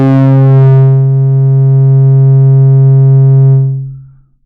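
A synth tone drawn in Acid Pro 11 holds a loud, steady, low buzzy pitch rich in harmonics for about four seconds before fading out, with nothing else heard.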